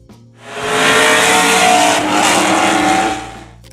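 A 1998 Pontiac Trans Am WS6 engine revs hard, a loud, close roar that swells after a brief quiet start, holds high for a couple of seconds, then fades, with no voices.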